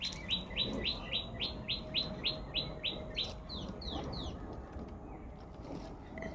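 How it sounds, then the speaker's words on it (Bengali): A bird chirps in a rapid, regular series of bright tweets, then a few slower calls, against a soft outdoor background. "আহা পাখির ডাকটা কি সুন্দর"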